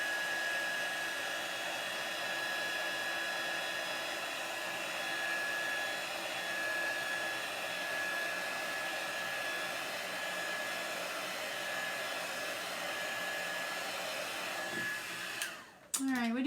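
A hair dryer blows continuously at close range to dry chalk paste on a craft project, a steady whooshing drone with a faint whine, clicked off abruptly near the end.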